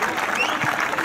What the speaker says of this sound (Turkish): Ona kocaman bir alkış istiyoruz.